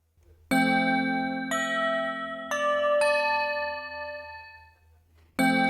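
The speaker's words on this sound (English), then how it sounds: "All right, so I'm gonna use this bell." Bell instrument patch in Cakewalk Next music software, struck about five times with bright ringing metallic tones and long decays, a couple of notes sustaining under later strikes, played alone without talking.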